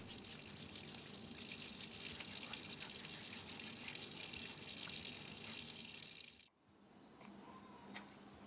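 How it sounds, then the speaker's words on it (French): Water runs steadily from a tap while hands are washed with soap, a continuous splashing gush that cuts off abruptly near the end, leaving a faint trickle and quiet drips. "Se laver les mains à l'eau et au savon"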